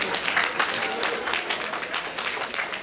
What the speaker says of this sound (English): now you can do a round of applause that is way bigger than you have.